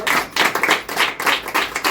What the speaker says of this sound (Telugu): ఆయనకి మనం ఎన్ని చప్పట్లు కొడితే కూడా సరిపోవు. కొడదామా ఒకసారి అయినా?